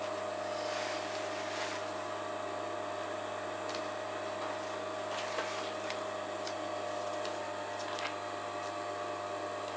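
Sewing machine stitching along the bottom of a fabric bag: a steady, close mechanical hum runs continuously throughout with a constant tone and light intermittent ticks, with no talking.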